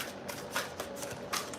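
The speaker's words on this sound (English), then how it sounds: "Let me take out a card here, the Soul Oracle cards." A card is drawn from a Soul Oracle deck, giving soft papery shuffling and sliding swishes in a few brief bursts, close and quiet with no talking.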